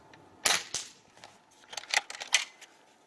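Kral Puncher Armour .22 (5.5 mm) PCP bullpup air rifle firing: a sharp crack followed by a second close shot, then a quick cluster of clicks and snaps, alone with no talk.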